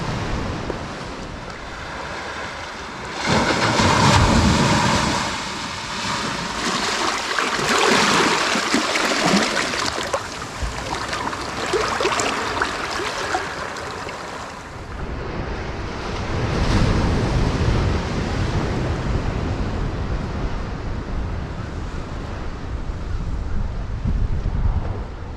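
Gusty wind roars across the microphone on the seashore at Tenby in Pembrokeshire while sea fishing, rising in strong buffeting bursts with surf washing underneath, steady and close for the whole stretch.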